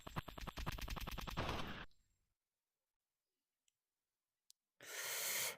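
An assault rifle fires at a VRChat shooting range in a video game: a loud, rapid automatic burst of evenly spaced shots, then near silence with a couple of faint clicks, and another loud burst starts at the end.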